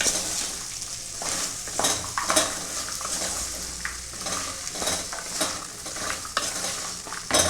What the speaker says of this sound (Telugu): బెండకాయ ముక్కలకి ఆయిల్ పట్టేలాగా మంచిగా కలుపుకోవాలి.